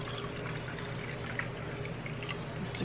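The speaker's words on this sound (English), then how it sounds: "I'm gonna add water into the can" Water pours steadily into a small 7-ounce can in a kitchen, a continuous low splashing fill heard alone for a few seconds.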